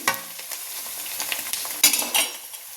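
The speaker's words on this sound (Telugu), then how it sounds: "దోరగా లైట్గా రెడ్ వచ్చే వైపు, గోధుమ గింజ కలర్ వచ్చే వైపు వరకు మనం వేయించాలి ఈ కాకరకాయని, ఉల్లిపాయని" Bitter gourd and onion frying in a pan, a close, dense sizzle with quick scraping stirs and a couple of sharper clinks of the spatula, no voices.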